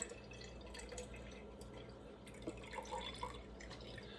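Beef broth poured into an Instant Pot while making spaghetti, a faint steady trickle with a few soft drips and splashes, no talking.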